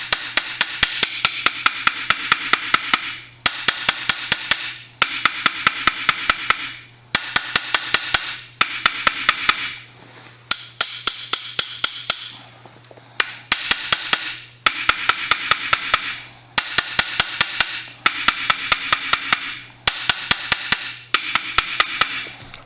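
Rapid metallic hammer taps ring out in quick bursts, separated by short pauses, a close, bright tapping repeated steadily as a flat hammer face works a dent out of a magazine tube.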